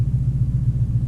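A 503 hp Mercedes C63 AMG held in launch control gives a deep, steady engine rumble with a slight pulsing throb, close and alone.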